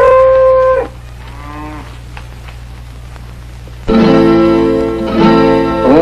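Cattle low in two long, loud, close moos, the second drawn out and wavering, with a quieter gap of background hum between them.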